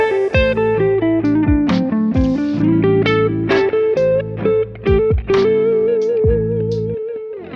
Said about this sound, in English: I learned the lick and slowly it sounds like this